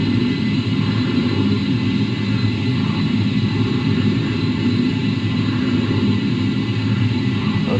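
Simulated F-14 jet engines idling at about 40% throttle in a flight simulator game, a steady, even low rumble and whine that holds unchanged throughout with no voices.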